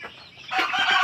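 On a poultry farm of red and dark roosters, a soft murmur opens before a burst of loud clucking and squawking from nearby birds, with no one talking.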